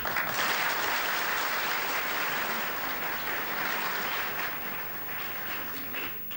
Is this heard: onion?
no